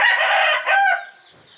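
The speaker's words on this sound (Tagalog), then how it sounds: "May manok pa dyan sa loob." Chickens cluck and a rooster crows close by among braiding fowl, a single loud crow dominating the first second before fading into softer background clucks.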